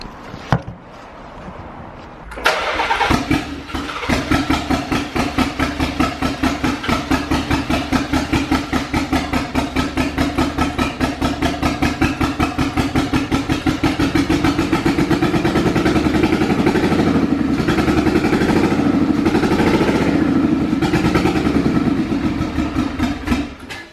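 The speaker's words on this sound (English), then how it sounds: "you got an exhaust leak" An engine with an exhaust leak starts up and settles into a loud, steady, slightly uneven running rumble with a raspy, popping edge, close by and continuous.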